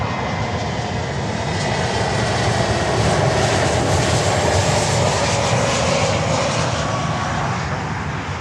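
A Spirit Airlines Airbus A321neo jet roars at an airport, a loud, broad, steady engine rush that swells slightly mid-pass and stays close and dominant without voices.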